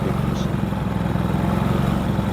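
Loncin LC 4500i inverter generator running in economy mode, a steady close engine drone with an even low hum throughout the short stretch.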